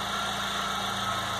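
A Volkswagen Fusca (Beetle) engine idles steadily and faintly in a workshop, a low even mechanical hum with a slight rhythmic pulse and no voices.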